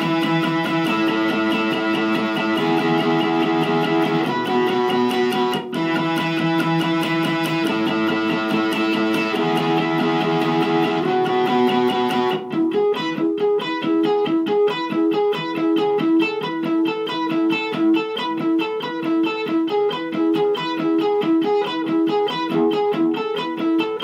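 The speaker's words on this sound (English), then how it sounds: "It's an overdriven pedal. It's not a hard gain, high gain distortion like the Riot." An electric guitar played through an overdrive pedal set to moderate gain rather than high-gain distortion, ringing out sustained chords and then shifting to a steady, rhythmic picked pattern, loud and continuous with no talking.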